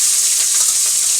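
Katla fish frying in hot oil in a village kitchen, a steady, bright sizzling hiss that runs close and unbroken through the short moment with no voices.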